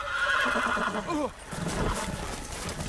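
A horse whinnies loudly in a long, wavering call in a Game of Thrones video game, followed by hoof clatter and ambient noise.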